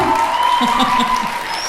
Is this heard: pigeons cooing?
no